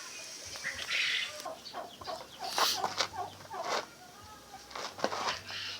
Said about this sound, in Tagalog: Andito tayo ngayon sa ating mini farm sa native chicken.